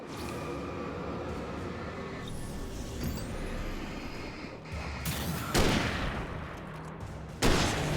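Hunting rifle shots in the Alan Wake video game over a dark, rumbling ambient bed. Two sharp, loud reports ring out a couple of seconds apart late on, and a softer thud comes earlier.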